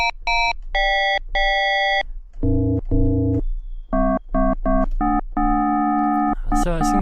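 Bright, bell-like FM-synthesized tones play in short repeated bursts, jumping between high and low pitches, with metallic harmonics and brief gaps between notes.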